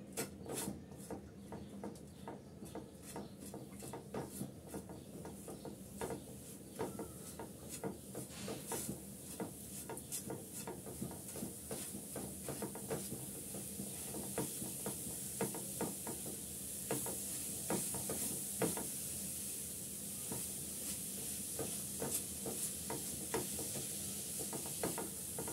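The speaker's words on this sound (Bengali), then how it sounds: "নেড়ে চেড়ে মিক্স করে আমি বাদাম, নারিকেল আর গুড় দিয়ে একটা" Peanuts, grated coconut and jaggery being stirred together in a pan over a lit stove, giving steady rasping, scraping strokes of a spoon against the pan with a faint sizzle, close and continuous, no talking.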